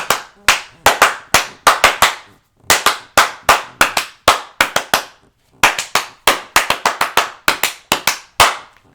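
Sharp, close hand claps in quick bursts of several claps each, separated by brief pauses, loud and dry with no talking over them.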